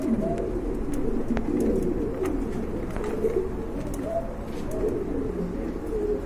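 A flock of pigeons, including desi Giribaz birds, coos continuously at moderate distance, a low, layered murmur of overlapping calls with faint chirps over several seconds.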